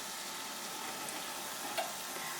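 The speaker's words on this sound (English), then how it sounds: "I'm going to go ahead and flip them over." Tuna patties sizzle in a frying pan with a steady, close hiss, and one brief soft scrape and tap near the end as a patty is flipped; no talking.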